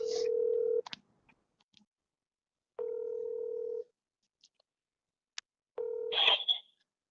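Mobile phone placing a call: three long, steady dial-tone beeps separated by silence, with brief clicks and short key tones between them, clear and close.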